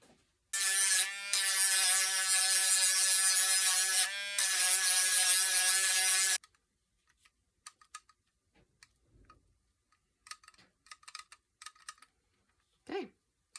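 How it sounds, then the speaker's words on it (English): A Dremel rotary tool sanding the edge of a plastic skeleton prop, with a loud, steady high-pitched motor whine lasting about six seconds and a brief dip partway through, followed by quiet handling noises. "I could sand off this edge right here to prevent that from happening. So I might get my Dremel."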